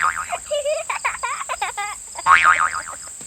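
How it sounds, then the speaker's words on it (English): Springy, wobbling boing effects mark a small hare bouncing up and down in a children's story read-aloud, with a warbling spring tone at the start, quick bouncy twangs in the middle, and another loud wobble near the end. "laughed Little Nut Brown Hare, bouncing up and down"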